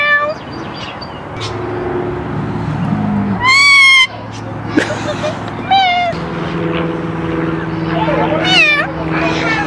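A bird gives several short, rising meow-like calls that imitate a cat, close and loud, between people talking softly and saying hello.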